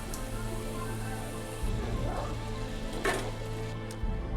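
Spinach bajji fritters deep-frying in hot oil, a steady close sizzle with soft bubbling and a few brief stirring or scraping sounds at moderate loudness.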